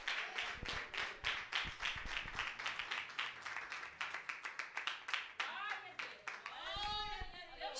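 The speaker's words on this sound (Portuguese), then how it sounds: "Com as palmas, louvo o Senhor Jesus" A church congregation claps hands in praise during an evening service, sharp rhythmic claps in a steady beat, with a voice speaking over the final seconds as the clapping thins.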